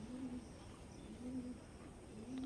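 A pigeon, a female star pigeon, cooing softly while held in the hand, low repeated coos at a slow pace, close and quiet against background hiss.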